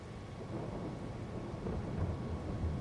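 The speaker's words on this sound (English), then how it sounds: "Oh no, it's snow, it's raining." Rain and thunder in the Farming Simulator 22 farming game on the Elmcreek map, a steady low rumbling wash of rainfall with a deep roll of thunder throughout, swelling slightly louder at the very end, with no voices.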